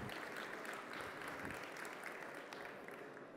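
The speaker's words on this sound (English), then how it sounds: "Please give a round of applause for Tilke Judd." Audience applause breaks out after a speaker is introduced at a talk, a steady, fairly faint wash of clapping that holds for a few seconds and tails off slightly at the end.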